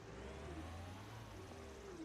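A telescopic handler's engine in a construction simulator game drones at a steady low idle with a slight whirring rise and fall, quiet and continuous with no voices.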